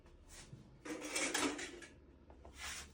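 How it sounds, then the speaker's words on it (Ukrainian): Cupronickel tableware made of copper, nickel and zinc is handled, giving quiet metallic clinks and rattling clatter in a few short bursts. "Насправді це МНЦ, тобто е, посуд, який зроблений з міді, нікеля і цинку."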